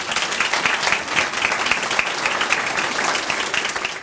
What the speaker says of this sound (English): And how about another big round of applause for all of our winners here today?